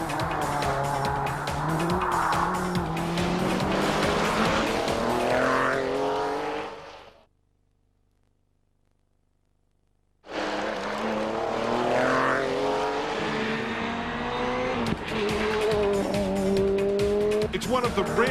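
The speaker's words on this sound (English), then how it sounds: "It's one of the rarest rally cars in the world, the 1985 Ford RS200 Evolution." A 1985 Ford RS200 Evolution turbocharged rally car races on tarmac stages in Tasmania, its engine roaring with rising and falling revs and squealing tyres. The sound is loud, drops to near silence for a few seconds, then resumes, with talk over it.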